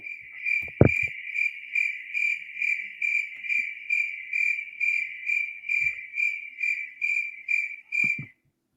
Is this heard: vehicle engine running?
no